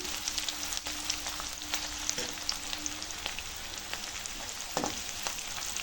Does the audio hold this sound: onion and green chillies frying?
yes